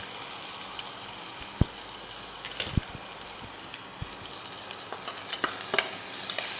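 Small onions and garlic cloves fry in hot oil for paruppu kuzhambu: a steady, close sizzle with a few sharp pops and clicks scattered through it, and no voices.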